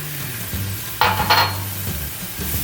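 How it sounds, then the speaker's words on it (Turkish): A wire whisk stirring tarhana soup in a pot as water is added, steady soft swishing with two brief bright metallic scraping strokes near the middle, no talk. "Şöyle tel çekiciyle karıştırıyorum topak olmasın."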